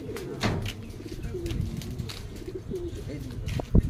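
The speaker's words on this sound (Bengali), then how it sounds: "এইদিকে সব ম্যাচের পায়রাগুলো রয়েছে এই সেকশনটায়" Pigeons coo close by in a loft of imported racing birds, low throaty coos repeating through the clip amid murmured talk and shuffling, with a sharp knock near the end.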